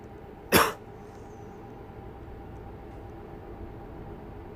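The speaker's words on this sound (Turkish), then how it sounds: "arada bir öksürük falan şey yapıyorum ama kusura bakmayın" One sharp, short cough sounds close by, then a steady low background drone continues.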